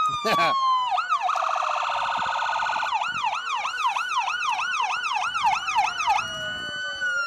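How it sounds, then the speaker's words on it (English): Loud wailing fire engine sirens close by at a Christmas parade, shifting from a rapid yelp to a rising and falling wail, with engine noise underneath. "One thing's for sure, Jamie, the sirens are working."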